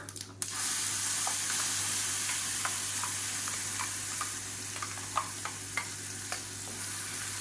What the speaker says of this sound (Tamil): நல்லா கலந்துட்டு பச்சை வாசனை போகிற அளவுக்கு மட்டும் லேசாக கொதிக்க விட்டால் போதும்.